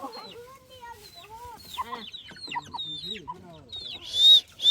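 A chicken clucks in a rural outdoor setting with a string of short, rising and falling calls close by, followed by a brief shrill squawk at the end; people speak in the background.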